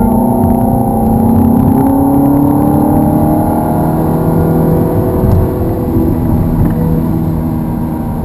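A Ferrari 430 accelerating on the Hallett race track, heard close as a loud, continuous engine drone whose rising harmonic tones climb and shift through the pull, with a whirring undertone throughout.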